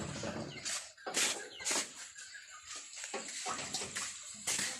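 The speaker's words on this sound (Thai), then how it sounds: "นี่ครับนะท่อน้ำก็ ได้แตกครับ" Water gushes from a burst pipe in bursts of loud, broadband rushing and splashing, surging and easing several times close by with no speech.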